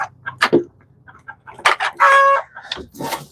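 Chickens in a coop cluck and squawk in short, loud, close bursts, with one drawn-out crowing call in the middle and a quiet low hum beneath.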